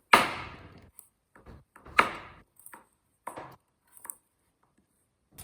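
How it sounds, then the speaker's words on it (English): A handful of crisp knife chops through squash on a cutting board, irregularly spaced with short pauses between strikes, close and fairly loud with no talking. "You can cut the squash into small, square pieces."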